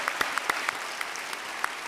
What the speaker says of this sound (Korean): 여러분 이들에게 정말로 따뜻한 응원과 격려의 박수를 여러분이 좀 해주시면 좋겠습니다.